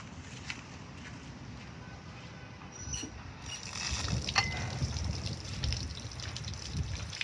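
Water runs from a connected garden hose into a boat engine's flushing attachment, a steady close gushing and trickling that swells louder about halfway through, with no talking.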